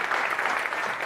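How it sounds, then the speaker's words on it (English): Steady audience applause welcoming a speaker to a lightning talk at a tech meetup, dense and continuous clapping from a crowd filling the whole moment without pause. "so with a big round of applause, okay,"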